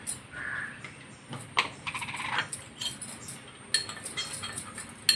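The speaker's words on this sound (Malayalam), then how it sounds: "അതുമാതിരിയാണ് ഈ കാക്കച്ചി വന്ന് ഇവിടെ കിടന്ന് അലമ്പുണ്ടാക്കുന്നത്" A crow caws close by in short, scattered bursts, several harsh calls with small clinking ticks between them and no one speaking.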